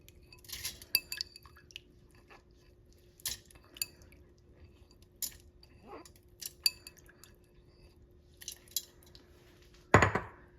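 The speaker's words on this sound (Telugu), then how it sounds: "నేను ముందుగా కందిపప్పు వేస్తున్నాను కుక్కర్లో" Toor dal going into a pressure cooker: scattered sharp metallic clinks spread across the clip, ending in a brief rattling pour of grains against metal.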